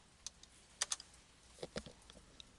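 Short bursts of keystrokes on a computer keyboard, entering a percentile function into a spreadsheet; a few isolated taps, then two quick clusters of clicks close to the mic, quiet and with no voice.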